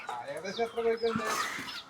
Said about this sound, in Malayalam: ആ കോഴിക്കളുണ്ട്